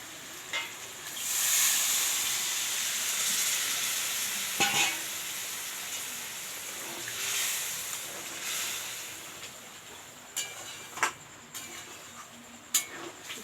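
Water is poured into a pan of simmering Bengali chicken curry, bringing a rising hiss and sizzle followed by quieter bubbling and a few sharp ladle clinks near the end.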